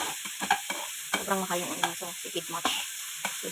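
Chopped onion sizzles and is stirred in a hot pan for ginisang takway, bursts of frying crackle alongside scraping utensil strokes, close and fairly loud.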